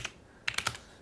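A burst of quick keystrokes on a computer keyboard types a short command on a Raspberry Pi running OctoPrint. Five or six close taps come near and fairly quiet after a brief initial click.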